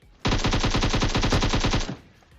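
Sustained automatic gunfire in the battle royale shooter PUBG Mobile: a loud, rapid, evenly spaced burst of roughly a dozen and a half shots, lasting about a second and a half before cutting off, with no talking.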